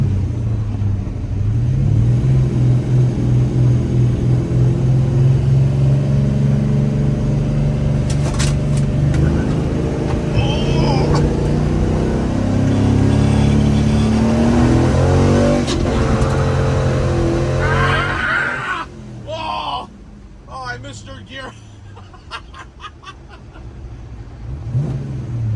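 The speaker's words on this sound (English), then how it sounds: "I'm gonna try and take this turn with a little bit more acceleration." A 1964 Chevrolet Chevelle Malibu engine roars and revs up steadily, rising in pitch as it accelerates through a turn, loud and close, then drops off into scattered clatter near the end.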